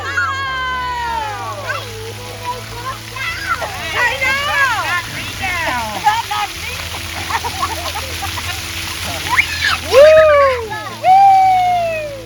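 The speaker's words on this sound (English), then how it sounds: "Let's go to the splash pad." Children play and squeal in water at a splash pad, with splashing and running water beneath lively high-pitched shouts and chatter; voices rise loudest near the end.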